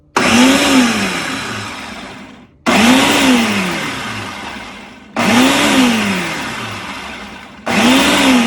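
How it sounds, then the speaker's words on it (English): A food processor chopping tomatoes whirs loudly in three long bursts, each starting with a rising motor whine and easing slightly before cutting off, then restarting. "all of our tomatoes are blended up really well. They're chopped in the food processor"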